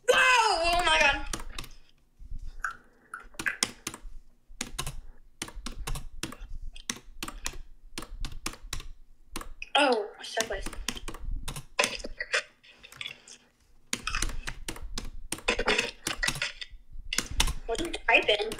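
Rapid clattering keystrokes on a computer keyboard come in bursts, close and crisp, while children talk and exclaim over a shark-bite game between and during the typing.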